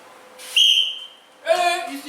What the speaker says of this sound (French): Et il siffle 6 mètres.